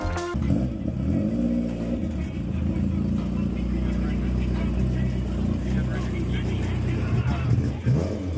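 A BMW E30 arriving at a car meet gives a continuous low engine rumble with some rising revs, heard fairly close under background voices.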